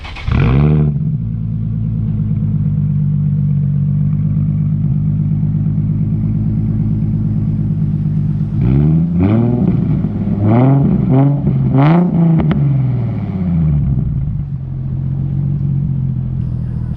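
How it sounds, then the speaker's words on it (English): A Nissan 350Z HR with a Tomei exhaust idles with a deep, loud rumble, then gets blipped several times in quick succession, the revs rising and falling sharply before settling back to idle. "it's time to start up the car and just listen to it"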